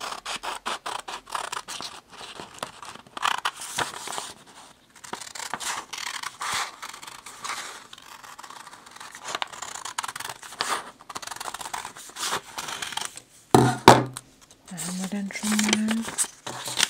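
Scissors cut out a paper template for an owl appliqué in repeated snipping and crisp scraping strokes close by, with some paper crinkling and a brief higher squeak near the end.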